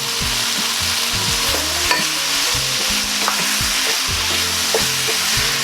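Chicken stir fry with black pepper and curry powder fries in a pan, giving a loud steady sizzle with occasional light utensil scrapes. A low, stepped tonal hum runs underneath.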